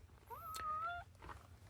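A cat gives one drawn-out, rising meow, fairly close, followed by faint rustling and a brief sharp noise at the end.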